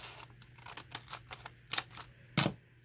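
Scissors cutting the window out of a paper envelope, a quick series of small snips and crisp paper clicks ending in two sharper cuts, close and quiet.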